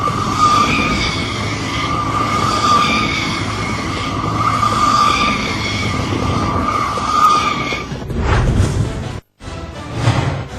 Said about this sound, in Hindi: उन्होंने रॉयल एनफील्ड गैरिल्ला 450 मोटरसाइकिल पर मात्र 1 मिनट में 27 ड्रिफ्ट सर्कल्स पूरे किए